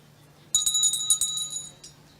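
A bell rung for the bell lap of a girls' under-13 1500m race walk final at a state track championship, a quick run of bright metallic clangs lasting about a second, fairly close and heard alone.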